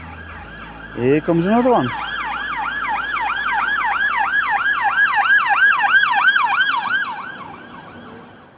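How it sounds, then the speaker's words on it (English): Police car sirens wail along the A41 road, with a short rising burst followed by a long, steady up-and-down wail that swells and then fades as the vehicle passes. Someone speaks briefly over it. "We've got police cars parked up left, right and centre, shooting up and down the A41"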